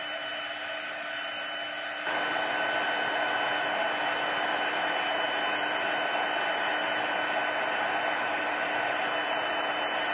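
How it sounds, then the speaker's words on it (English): A heat tool blows a steady, loud, hissing roar over embossing powder on a stamped image, running continuously and growing slightly louder after the first couple of seconds, with no voices. "I always make sure I give the heat enough time to work on the powder to make your image nice and smooth"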